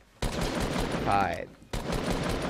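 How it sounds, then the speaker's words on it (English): Rapid automatic gunfire from a Fortnite video game weapon, about seven or eight shots in a dense burst, loud and continuous, stopping briefly before more firing resumes. "See how I just shot like 7 bullets, maybe 8."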